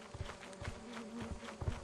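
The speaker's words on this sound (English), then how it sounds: "Oh, he's going for the bees." Bees buzzing in the Lethal Company video game, a low droning hum with soft pulsing swells, fairly quiet and steady without any voices over it.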